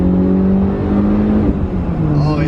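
BMW E30 M3 engine pulling hard from inside the car, a loud steady drone whose pitch holds, dips briefly and then settles, with voices talking over it.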